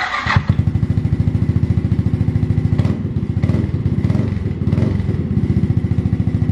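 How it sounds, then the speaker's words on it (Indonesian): A Yamaha NMAX scooter with a custom Papa Kilo exhaust idling up close, a loud, rapid throbbing putter with a brief sharp rev near the start and a few light throttle blips after. "Oke teman-teman, itu tadi suara knalpotnya."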